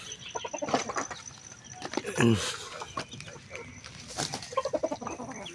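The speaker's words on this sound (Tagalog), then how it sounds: "papatuka tayo ng ating mga manok" Chickens cluck repeatedly close by while being fed, with a louder squawk in the middle, while a person talks over them.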